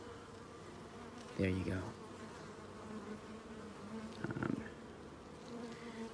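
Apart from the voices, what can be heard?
honeybees buzzing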